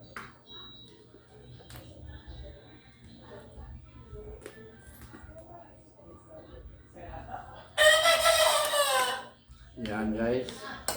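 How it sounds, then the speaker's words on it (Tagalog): A rooster crows loudly and close by near the end, with a shorter second call after it, following quieter background sounds and faint clucking. "Nagpapahiwatig na naman si Tandang."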